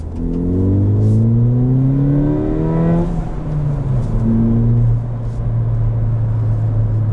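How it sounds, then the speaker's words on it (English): A 2019 Ford Fiesta ST engine revs hard and climbs in pitch as it accelerates, drops briefly when shifting gears, then pulls up again, loud and close. "And the sound of this car is unreal."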